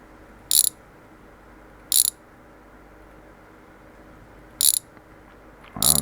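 A wrench ratchets in four short, sharp bursts while undoing the oil pan bolts under a car in a home garage, with quiet pauses between the clicks.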